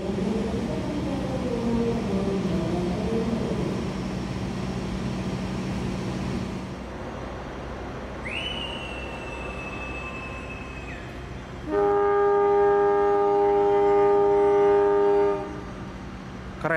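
Madiun Jaya train passing at Madiun station, a long consist with two baggage cars: steady rumble of wheels on rail, a rising horn-like tone, then a loud sustained multi-tone horn blast near the end.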